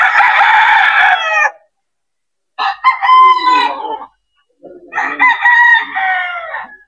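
Gamecocks in flying pens at a Mt. Banahaw game farm crow loudly and close by, three long separate crows with brief silences between them, no talking.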